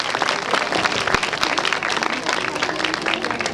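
A church congregation in Pakistan claps warmly and continuously, a dense, steady wash of hand claps filling the room with no pause.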